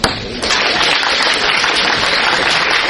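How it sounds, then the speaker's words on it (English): A lecture-hall audience applauds graduate student instructors, a dense, steady wash of clapping that swells in after a brief softer start and holds loud and even throughout. "Yes, you should give them applause already."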